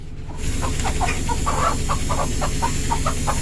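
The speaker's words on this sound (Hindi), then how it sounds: "इन अंडों के ऊपर ना हम इस ग्रे वाली मुर्गी को बिठा रहे हैं।" A grey hen clucks repeatedly in short bursts, close and fairly loud, as she is set on a clutch of eggs under a basket, with a steady low background hum throughout.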